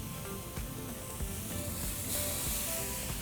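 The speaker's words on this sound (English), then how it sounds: "I'm going to be grilling open fire for 3 minutes per side." Carne asada steak cooks over an open-fire grill with a continuous, close sizzling hiss, crackling gently and holding steady throughout.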